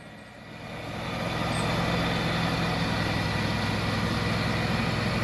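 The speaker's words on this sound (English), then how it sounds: "There goes Farmer Dale on his new ride, the new John Deere lawn tractor." A new John Deere lawn tractor drives past outdoors, its steady engine drone swelling over the first couple of seconds and then holding loud and close without any talking.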